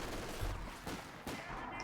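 Rapid bursts of machine gun fire in Company of Heroes 2 battle action, dense and continuous over a constant game background.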